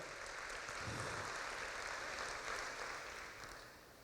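Church congregation applauding during a service, the clapping faint and diffuse in a large room, dense throughout and tapering off at the end.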